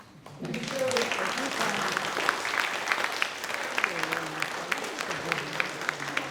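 An outdoor crowd at a July 4 community gathering at Canterbury Woods claps steadily for several seconds, dense sustained applause with a voice speaking over it near the start.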